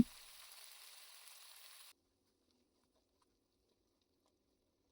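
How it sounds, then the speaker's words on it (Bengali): A ginger-garlic spice paste with onion sautés in a pan for a Bangladeshi fish curry, giving a soft, even sizzling hiss for about two seconds. The sizzle stops abruptly, leaving quiet. "আমি আরও দুই তিন মিনিট এরকম কষিয়ে নেব যেন মশলার কাঁচা গন্ধটা চলে যায়"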